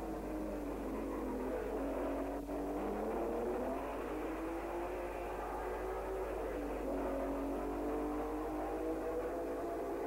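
1960s Grand Prix race cars on a circuit, a continuous droning engine note with shifting revs as cars pass and accelerate, heard at moderate distance under a steady background rumble.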